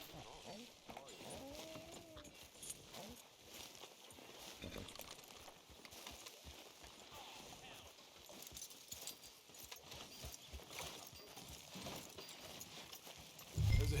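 Steady clip-clop of horse hooves walking at an even pace in Red Dead Redemption 2, with a low voice murmuring briefly in the background and a soft thump near the end.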